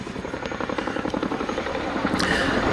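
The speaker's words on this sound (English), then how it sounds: "this is one of the things you've got to be able to do with a Chinook" Chinook twin-rotor helicopter flying an airshow display, its heavy rhythmic rotor thudding loud and close, steady throughout with engine whine above.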